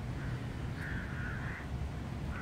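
Crows cawing in a city park on a rainy day, a few harsh calls spread across the moment over a steady low rumble of background noise, with no talking.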